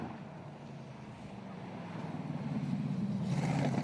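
A Brabham-based open-wheel race car with a 6-litre LS V8 at a sprint event, heard from a distance as a low engine drone that swells steadily louder as it approaches, with some wind noise.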